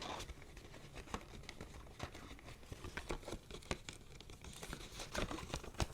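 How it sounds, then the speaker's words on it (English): New paper cash envelopes are pried open close up, giving continuous quiet crinkling, rustling and small tearing sounds with uneven bursts and no speech. "New envelopes are sometimes a little bit hard to get open."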